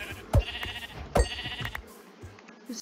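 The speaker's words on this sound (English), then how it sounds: "There's three sheep." Sheep bleat in a Minecraft world, two sharp, nasal bleats about a second apart followed by fainter soft sounds, close and clear over a quiet background.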